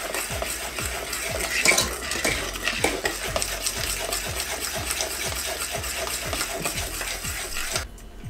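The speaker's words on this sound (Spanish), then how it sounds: "Mezclamos bien" Greek yogurt cake batter with vanilla sugar being mixed in a bowl, with a steady, rhythmic series of scraping strokes and soft knocks of a utensil against the bowl, close and continuous, with no talking.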